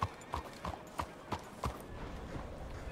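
Horse hooves clip-clop in a steady, unhurried walking rhythm in the Red Dead Redemption 2 game world, several distinct clops spaced evenly over a faint ambient background.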